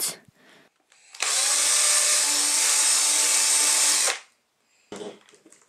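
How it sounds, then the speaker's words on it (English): A power drill whines loudly and steadily for about three seconds while drilling a 10mm hole through the center of bottle lids, then stops. Brief handling noises come before and after. "drill a hole right through the center of the bottle lids"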